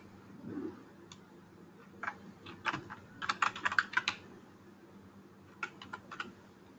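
Keystrokes on a computer keyboard as a password is typed, irregular clicks in short bursts with pauses between, close and moderately quiet.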